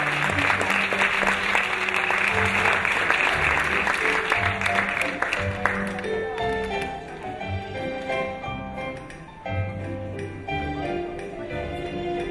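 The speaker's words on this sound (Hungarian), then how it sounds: "nagy tapsot kérek!" Audience applause at an end-of-season theatre performance, dense clapping for about five seconds that gives way to music with tonal chimes, with the clapping fading under it.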